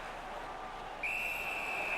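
A referee's whistle in the ice hockey video game NHL 19 cuts in halfway through as a thin, steady tone, held over low arena ambience.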